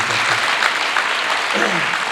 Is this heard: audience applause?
yes